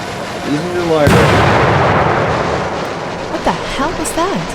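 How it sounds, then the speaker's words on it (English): A single loud explosion in the horror game Suffer The Night bursts out suddenly and rumbles away over a few seconds, with someone talking just before it and again as it fades. "It sounded like an explosion."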